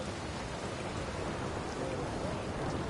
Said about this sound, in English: It's a good thing I never get bored of the rain